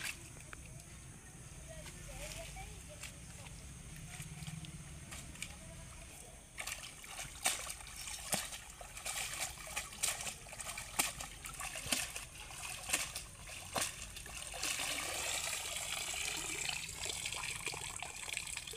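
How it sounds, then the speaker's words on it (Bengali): Gima greens are washed by hand in water at a village ghat, with sloshing, splashing and dripping that grows busier and closer midway, against faint outdoor background. "ঘাটে শাকগুলোকে ধুয়ে নিচ্ছি"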